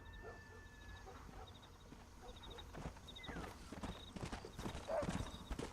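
Horse hooves clip-clopping in the Red Dead Redemption video game, a steady trotting rhythm under game ambience, with a faint dog whimper and a voice briefly heard.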